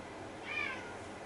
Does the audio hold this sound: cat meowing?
yes